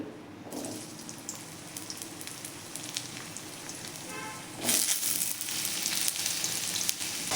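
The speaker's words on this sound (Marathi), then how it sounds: "अगदी थोड्याशा तेलामध्ये आपल्याला हे बटाटा फ्राय करून घ्यायचा आहे" Potatoes fry in a small amount of oil in a wok, giving a steady close sizzle that swells to a louder, brighter crackle partway through, with no talking.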